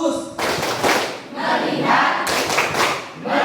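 Group of people clapping in rhythm during a classroom clapping game, several bursts of claps in quick patterns, fairly loud and close, with voices mixed in.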